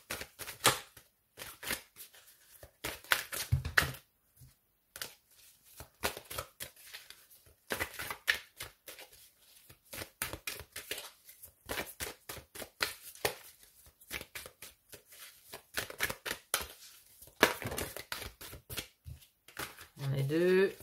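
Tarot cards are shuffled by hand in quick, crisp bursts of riffling and slapping that start and stop repeatedly, with a person speaking French between the bursts.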